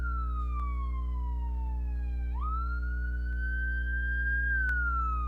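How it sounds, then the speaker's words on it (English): An ambulance siren wails past, its tone sliding down and then sweeping back up as it goes by, steady and fairly loud above a constant low hum, with no talk. "Ambulance passed."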